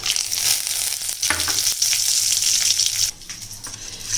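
Bay leaves and dried chillies sputter with cumin in hot oil, a loud close crackling sizzle that eases slightly near the end, with faint stirring and no talking.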